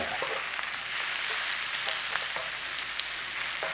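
Chana dal masala spiced with garam masala fries in a pan as it is stirred, giving a dense close sizzle with scattered light scrapes and ticks throughout.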